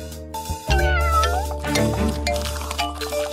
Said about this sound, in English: Oh no, he's found the cats.